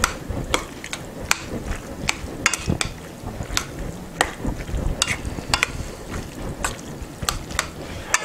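Fusilli pasta being stirred into a meat-based tomato sauce in a pot, making repeated wet squelches and sharp utensil clacks against the metal in an irregular rhythm, close and moderately loud.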